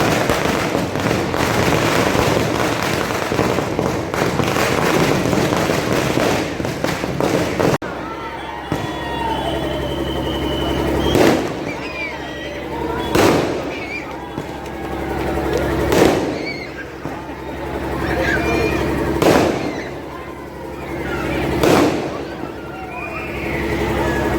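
During a Ganesh idol immersion procession, firecrackers go off in a dense crackling barrage, followed by about five separate loud bangs spaced a few seconds apart, with crowd noise and voices throughout.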